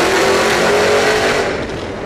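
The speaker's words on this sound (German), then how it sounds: "ein Veritas, auf der Autobahn hier kurz vor Monaco spazieren fährt" A Veritas RS III prototype sports car drives on a motorway near Monaco, its engine a loud, steady, close drone with wind rush throughout, easing slightly toward the end.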